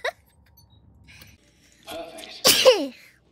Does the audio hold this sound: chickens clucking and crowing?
no